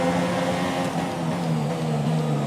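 Formula One race car engines from the F1 2017 video game on the Bahrain circuit, a loud, continuous high-pitched whine of several cars running close together in the slipstream, holding steady with slight pitch shifts throughout.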